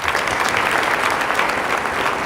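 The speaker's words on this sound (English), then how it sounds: "Another round of applause, please." A crowd at a celebration-of-life memorial gives another round of applause, with sustained, evenly dense clapping filling the room at close range.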